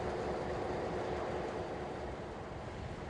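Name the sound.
train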